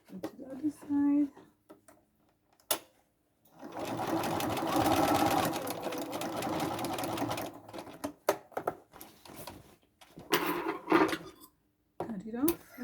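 A sewing machine stitches big zigzags on an upcycled bag in two or three close bursts of rapid whirring, separated by pauses with light handling clatter and a voice talking.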